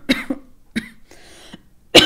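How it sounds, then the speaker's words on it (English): A person has a coughing fit: several quick, close coughs in short bursts, a brief pause with breathy exhalation, then another loud cough. "I'm getting a cough attack."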